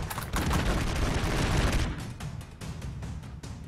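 Rapid video game gunfire in Broforce crackles in dense bursts, a loud sustained volley that breaks into shorter separate shots near the end.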